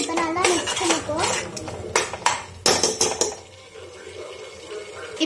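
Yogurt is stirred into a pot for chicken biryani, a spoon clanking and scraping against the metal in quick, uneven strokes, close up, with voices faintly in the background.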